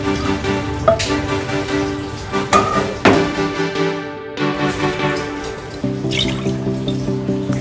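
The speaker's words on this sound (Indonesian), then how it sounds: "Kita masukkan santan." Coconut milk poured into a cooking pot for an Indonesian kue bugis, a liquid splashing and trickling stream with small drips and clinks, close and fairly steady over several seconds.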